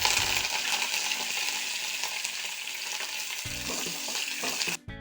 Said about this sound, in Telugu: దోరగా వేయించుకుందాం.